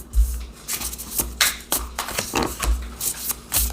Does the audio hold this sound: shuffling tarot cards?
yes